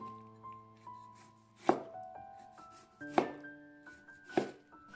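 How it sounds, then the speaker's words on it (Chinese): A knife dices tomatoes on a cutting board in three sharp, evenly spaced chops, each a crisp close thud, with steady tonal kitchen background music underneath and no talking. "最后横过来切成小碎丁，这样切西红柿丁简单又快速"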